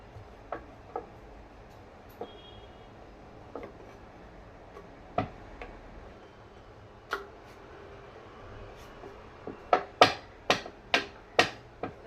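Flour dough for karanji is rolled out on a board, giving sparse, sharp wooden taps and knocks of the rolling pin that grow louder and more frequent toward the end, with no talking.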